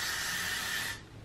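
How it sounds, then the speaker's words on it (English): A short, close hiss of an aerosol hairspray, about one second long, then fading out. "First I'm gonna spray it where my hair is sticking out."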